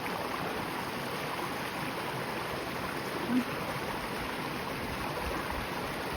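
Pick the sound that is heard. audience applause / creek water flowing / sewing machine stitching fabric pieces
creek water flowing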